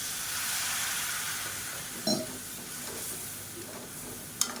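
Chicken masala with a little added water bubbling and sizzling in a pan, a steady soft cooking hiss throughout with a couple of brief clinks or stirring sounds, no talking.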